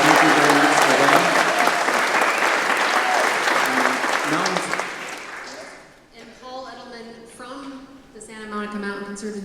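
Applause from neighbors at a Woodland Hills community meeting honoring Santa Monica Mountains Conservancy colleagues, a dense, loud clapping wash for about five seconds that fades out as a speaker's voice takes over.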